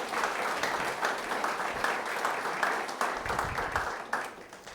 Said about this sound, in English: let's just take a moment to say thank you to these fine people with a round of applause